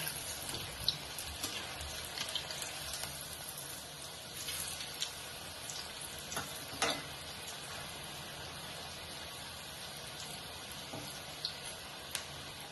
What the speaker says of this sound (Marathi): सिमवरच तळूया. नाहीतर आत शिजत नाही.